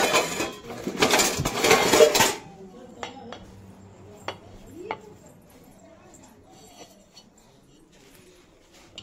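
A lid set over a pot of sweet halwa in a village kitchen, with metal pots and utensils clattering loudly at first, then a few scattered clinks and knocks as things settle, while a voice talks nearby.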